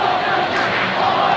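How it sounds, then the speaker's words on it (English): Football crowd at a Massillon versus Cincinnati Elder high school game chanting during a kick attempt, a dense sustained roar of many voices filling the stadium at steady loudness. "And the crowd chanting to block that kick."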